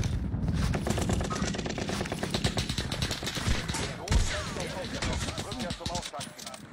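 Rapid, continuous automatic gunfire and rattling weapon sounds in the online shooter game Truy Kích, dense and steady throughout, with players talking over the shooting.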